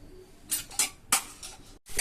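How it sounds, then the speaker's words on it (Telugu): Onion and green chili dropped into a hot pan for a curry, giving a few short bright sizzling bursts and light clinks in quick succession, close and clear with no talking. "ఉల్లిపాయ పచ్చిమిర్చి వేసుకుందాం"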